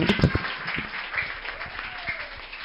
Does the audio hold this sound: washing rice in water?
no